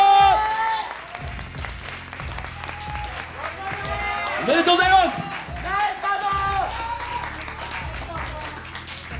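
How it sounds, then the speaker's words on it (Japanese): An audience at a rap battle final claps and cheers while a voice speaks over the applause, which swells in the middle before settling. "大きな拍手"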